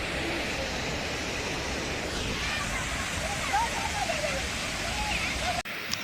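Water gushes from an open gate of the Kodiveri dam across the Bhavani river in Erode district, making a loud, steady, close rushing roar that continues unbroken and cuts off sharply near the end.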